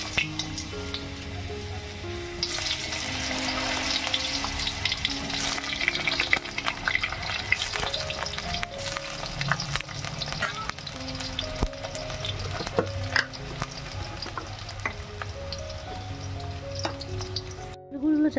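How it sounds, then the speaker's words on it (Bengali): Chopped potatoes fry in a pan for a vegetarian mung dal dish, giving a continuous close sizzle with occasional scraping and stirring clatter throughout, no talking. "আর এবারে আলুগুলো আমি লাল লাল করে একটু ভেজে নেব"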